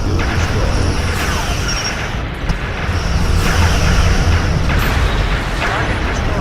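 A starship explodes in the PC space combat game Star Trek Legacy, a dense, sustained roar of blasts and rumbling booms filling the scene at high volume, with no pause and no talk over it.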